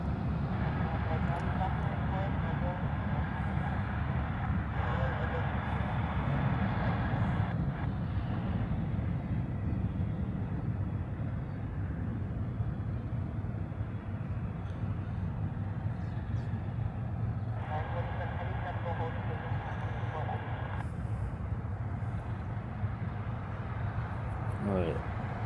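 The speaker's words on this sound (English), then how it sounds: "So another Queen just overflew my head," A Boeing 747 jet passes near Honolulu airport, leaving a steady broad rumble that fades slowly, with a person talking over it for most of the time.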